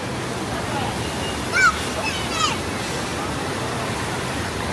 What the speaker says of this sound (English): it's loads of rapids, waterfall bits that you just get absolutely soaked on